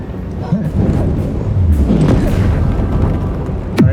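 A Bombardo blast spell in Hogwarts Legacy booms with deep, thudding explosions amid a rumbling low roar, loud and close, ending in a sharp whooshing burst, while a voice talks over it.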